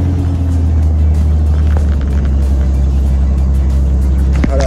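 A third-generation Dodge Cummins diesel pickup idles with a steady, loud low rumble throughout, a brief revving swell near the end.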